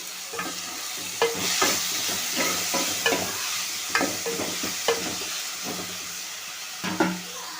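Tomatoes and green chillies for a fish curry sauté in a pan under a constant sizzle, broken by repeated spoon scrapes and taps in an irregular rhythm, heard close and without speech.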